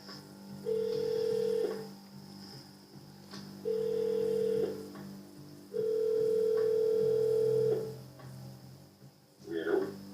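A telephone call rings out in a police simulator game, with three long ringback tones separated by pauses over a low steady hum, and a brief voice near the end.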